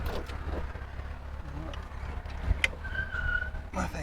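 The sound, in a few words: 1964 Triumph Herald car driving on a test drive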